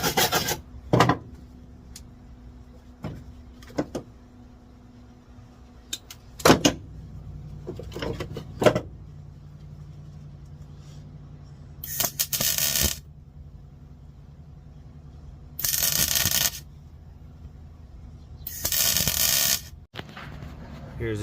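A grinder works down a weld on a 1991 Honda CRX build with a K20Z3 swap, in several short harsh bursts separated by quiet gaps, interspersed with clinks and taps of handled metal.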